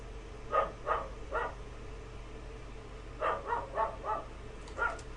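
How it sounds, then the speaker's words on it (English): A pet dog barks in two bursts, three sharp barks and then about five more, fairly close and loud over a low steady background hum. "That's enough. That's my dog."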